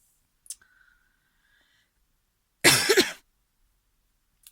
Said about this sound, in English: of course I would cough